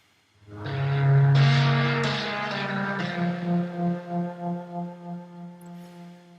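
A layered synth tone doubled an octave down and pushed through saturator distortion swells in, holds a fat buzzing note with a few stepped changes, then pulses in a slow wobble as it fades, alone.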